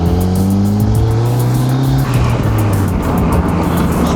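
A Volvo 940 Turbo car drives and accelerates close by with a loud engine. Its rising and falling harmonic tones show revs climbing through the gears, with a brief dip near the middle before it pulls again.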